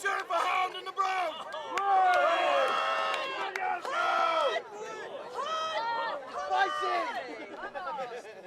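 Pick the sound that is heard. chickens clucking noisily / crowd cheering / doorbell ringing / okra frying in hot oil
crowd cheering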